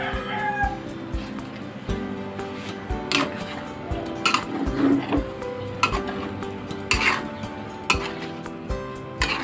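Tomato sauce is sautéed in a pan for chicken afritada, with repeated scraping and clinking stirring strokes over a soft sizzle and a brief high squeak.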